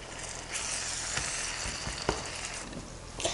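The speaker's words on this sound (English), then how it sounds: "I'm just chopping the tomatoes up a bit with this spoon, it just so then it can cook down a bit more" Chopped tomatoes, garlic and onions sizzle in a pan for a vegan pasta sauce while a spoon stirs and breaks them up. The frying hiss is loud and continuous, with scattered scraping knocks from the spoon.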